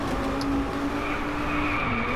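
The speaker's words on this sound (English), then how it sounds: "I'm braking too late." A race car in the DRIVECLUB video game braking late into a corner at Lake Shoji, a steady loud engine roar with tire skid and squeal held throughout.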